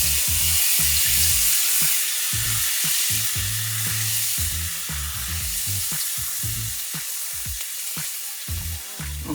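Garlic frying in a hot pan for shrimp spaghetti, a loud, continuous crackling sizzle with steady bright hiss and occasional stirring knocks, close up with no talking.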